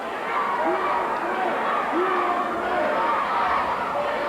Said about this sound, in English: You can hear the crowd, the thousands jamming Boutwell Auditorium in Birmingham, Alabama, as they chant USA.